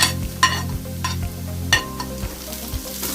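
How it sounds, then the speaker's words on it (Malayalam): Garlic, ginger and green chilli sizzle steadily in hot oil in a pan, with a spoon scraping and stirring in a repeating rhythm, close and fairly loud, no voices. "ഇതിൻ്റെ പച്ചപ്പ് മാറുന്നത് വരെ ഒന്ന് നമുക്ക് ഇളക്കി കൊടുക്കാം"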